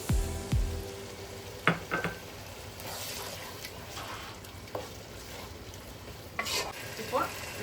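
A utensil stirs beef biryani yakhni in a pot with occasional scrapes and knocks over a soft, quiet bubbling sizzle; the stirring comes in brief bursts spaced a few seconds apart.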